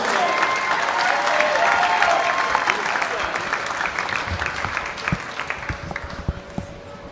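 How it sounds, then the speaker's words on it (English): Crowd applause in a gym at a high school wrestling meet, loud sustained clapping that gradually thins into scattered claps, with an announcer's voice over it. "Let's please give a round of applause for Grayson Sontag and Jeff Sontag."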